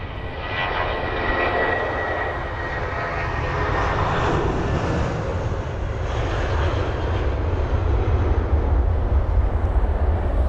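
An Airbus A320 airliner passes at Heathrow with a steady, broadband engine roar that holds fairly loud and even throughout, with no voices.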